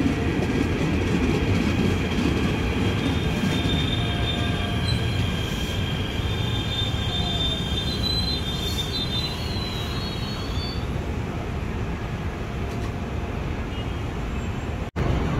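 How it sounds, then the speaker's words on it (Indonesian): A KRL Commuter Line train pulls into Mangga Besar station in Jakarta, with a loud, steady rumble of wheels on rails, high squealing wheel tones and a clicking rhythm that carries on throughout. "Jalur 2 masuk KRL tujuan akhir stasiun Ambon"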